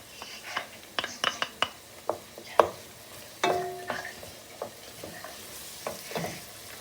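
Chopped garlic hitting hot oil with onions and carrots in a pot of Kyrgyz plov, a steady close sizzle broken by sharp scraping clinks of a utensil against the pan, no talking.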